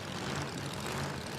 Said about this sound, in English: We can hear that supercharger